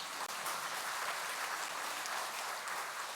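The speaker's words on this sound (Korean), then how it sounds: "여러분, 박수 쳐야 되겠죠?" Faint but continuous applause from a church congregation during a Catholic Pentecost Mass, a steady wash of many hands clapping heard from a distance in a large reverberant space.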